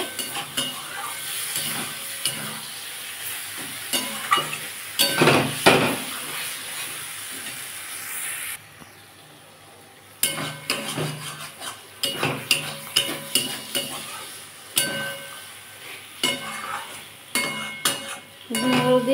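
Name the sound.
stirring fried ridge gourd in a frying pan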